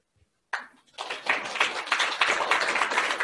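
Audience applause at a Herbalife motivational talk, starting abruptly after a short pause and swelling into steady, dense clapping from a crowd that continues without letup.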